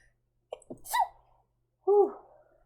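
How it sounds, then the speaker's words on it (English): A person gives a single sharp sneeze with a quick intake of breath first, followed after a pause by a voiced exhale, close and loud in a quiet room. "Oh, I have to sneeze."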